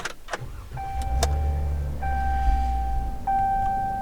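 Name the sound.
car driving on a road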